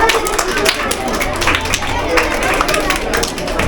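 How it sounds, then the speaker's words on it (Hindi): Children at a school annual sports day and prize distribution clapping loudly together, a dense, continuous patter of many hands with crowd babble mixed in, lasting nearly four seconds. "तमाम बच्चे एक जोरदार ताली बजाएंगे बच्चों की और उनके"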